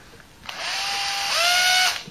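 Electric drill spinning a Ford Cortina cruise control sensor on the bench, a single steady whine that starts abruptly, rises in pitch midway, then cuts off after about a second and a half.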